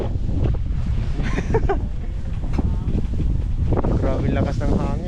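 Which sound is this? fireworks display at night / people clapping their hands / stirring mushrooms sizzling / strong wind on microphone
strong wind on microphone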